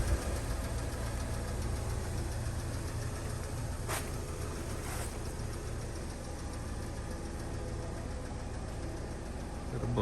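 A Fiat Punto car engine idles evenly, a steady low mechanical hum with light knocking texture running throughout, plus a couple of brief clicks midway.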